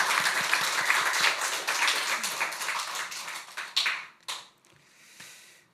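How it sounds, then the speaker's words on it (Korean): A church congregation claps for its choir at a rainy Sunday service, a dense burst of hand applause that thins out and breaks into a few scattered final claps. "우리 박수 감사하겠습니다"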